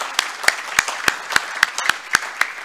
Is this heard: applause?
yes